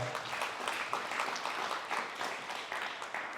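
A church congregation claps and applauds together during a Spanish-English worship service, a dense, even wash of many hands continuing throughout, moderately distant and fairly soft.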